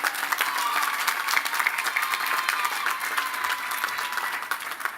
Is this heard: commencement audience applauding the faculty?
yes